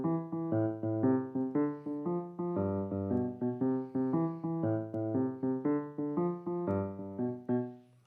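A simple, widely known piano tune is played alone, a steady run of clear, evenly paced notes with bass tones underneath, rising and falling in short phrases before a final held note.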